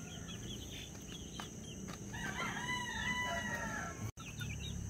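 Chickens, a rooster among them, cluck and crow at feeding time, several birds calling in overlapping bursts close by over a steady farmyard hum, with a brief dropout near the end.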